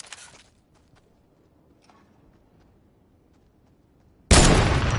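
Gunfire from a 50 cal in a Fortnite match: a short crack at the very start, a quiet stretch, then a loud, sharp burst of shots near the end that rings on to the close.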